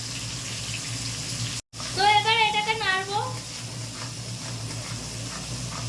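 Water splashes while rinsing leftover ground mustard, poppy seed and green chilli paste off a grinding stone, a soft running wash with a steady hum behind it and a voice speaking briefly over it.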